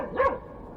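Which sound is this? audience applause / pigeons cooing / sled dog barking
sled dog barking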